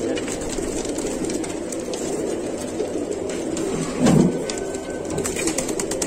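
Pigeons for sale coo softly amid a dense flock murmur, wings and scuffles rising briefly, over a steady low background rumble.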